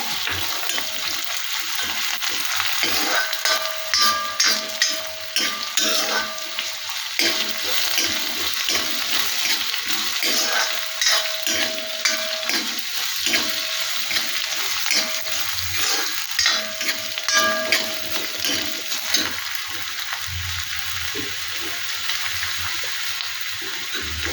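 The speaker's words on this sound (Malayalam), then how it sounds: "ഇഞ്ചി, അത് മൂക്കട്ടെ" Ginger and garlic fry in oil for a spicy clam roast, giving a steady close sizzle throughout with frequent scraping and clinking of stirring in the pan and no talking.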